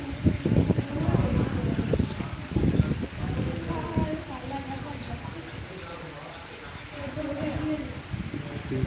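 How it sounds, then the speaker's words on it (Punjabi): Heavy rain pours steadily with a dense hiss and patter on surfaces, while someone talks over it close to the microphone. "ਦੇਖੋ ਜੀ ਬਹੁਤ ਘੈਂਟ ਮੀਂਹ ਅੱਜ ਥੋੜਾ ਜਿਹਾ ਹੋ ਗਿਆ ਮੱਠਾ ਪੈ ਗਿਆ ਫਿਰ ਵੀ ਬਹੁਤ ਜ਼ਿਆਦਾ ਪੈ ਰਿਹਾ"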